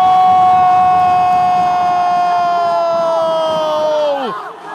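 Futsal crowd in an arena roars loudly and steadily after a goal, with a sustained horn or siren-like tone running through the noise before it dips near the end.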